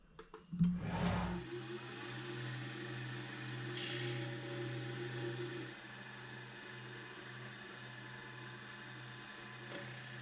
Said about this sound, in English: So that one there just drilled not too bad